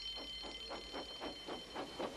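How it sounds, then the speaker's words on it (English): A repeating alarm in a Roblox Thomas the Tank Engine railway game pulses about six times in two seconds over a steady high electronic tone, faint and distant. "Soon came the alarm."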